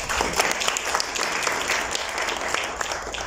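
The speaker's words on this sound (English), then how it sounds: "this one deserves another round of applause" An audience at an education inauguration event gives a dense round of applause for a speaker who has just shared a personal story, with many hands clapping steadily and close.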